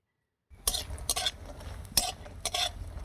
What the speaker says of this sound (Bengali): আজ বড়ি ভাজছি